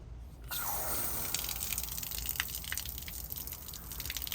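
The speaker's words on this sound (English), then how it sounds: "turn the hose on here and kind of soak this with water" After a brief quiet moment, water starts gushing steadily from a garden hose, splashing and trickling onto the ground nearby.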